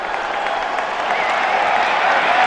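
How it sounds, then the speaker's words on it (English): A stadium crowd at a 2010 Nebraska college football game against Missouri gives a sustained ovation, dense applause and cheering rising slightly in loudness throughout. "The crowd is just now realizing it, and they're giving him an ovation"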